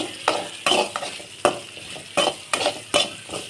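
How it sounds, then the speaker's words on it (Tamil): Large onions for a brinjal gravy are sautéed in a pan, with about seven brisk spatula strokes scraping the pan over a gentle sizzle, close and fairly loud. "இந்த மாதிரி நல்லா வதக்கிக்கோங்க."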